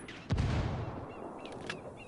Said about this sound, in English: Some hombres close by heard the explosion.